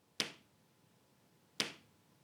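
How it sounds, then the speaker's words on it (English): Two single sharp hand claps spaced about a second and a half apart, close and crisp, each with a short decay, against a quiet background. "Now, clap your hands together."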